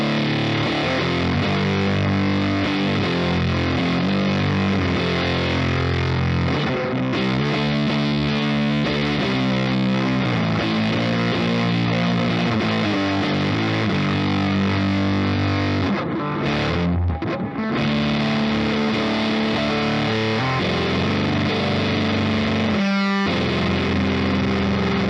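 Heavy, low electric guitar through a Death By Audio Fuzz War pedal and amp, playing a steady riff with dense sustained notes and a brief dropout, loud and alone, no talking.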